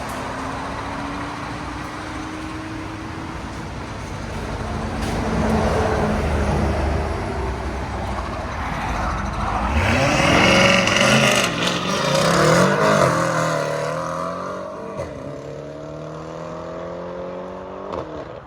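Twin-turbo 4.4L V8 of a 2020 BMW M850i with catless downpipes and an X-pipe, idling with a steady rumble, then a loud revving burst that rises and falls before settling back.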